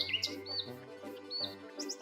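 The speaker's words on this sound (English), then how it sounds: "Bird, bird. B-I-R-D. Bird." Short bright bird chirps and tweets repeat in small bursts over about two seconds, fairly close and clear, alone with no voices.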